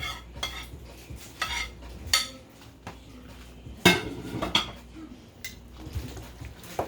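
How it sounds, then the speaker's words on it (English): Macaroni pie being mixed in a pot with a spoon as cheese is stirred through hot pasta, giving repeated scraping and clinking strokes at close range with a few sharper knocks against the pot. "And just keep mixing until the cheese kind of melts in, until everything looks totally coated."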